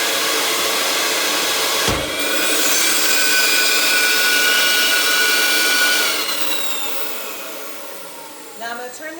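Hair dryer blowing on bleaching trays, a steady loud whirring hiss that runs for several seconds, then winds down and fades after a brief bump.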